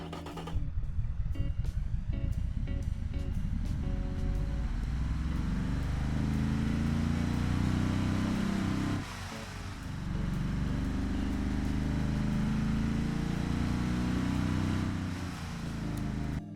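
An 80s-style V8 engine in a minivan, simulated in the BeamNG driving game, runs steadily and loud with a low rumbling drone and revving, dipping briefly midway before picking back up, with no talking.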